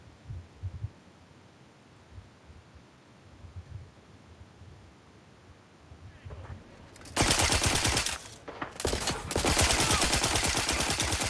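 Rapid automatic gunfire from a weapon in Outer Worlds 2 begins after a quiet stretch and goes on loud and close in sustained bursts with a short gap between them.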